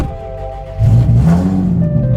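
A drift car's engine roars loudly as it accelerates, heard from inside the car with a deep rising drone and layered harmonic tones throughout the short burst.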